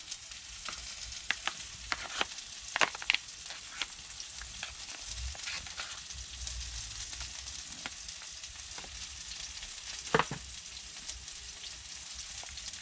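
Bacon fries outdoors at a camp in a pan that already holds mushrooms and tomatoes, making a steady crackling sizzle. Sharp clicks and pops and a few utensil knocks cut through, one louder clatter near the end.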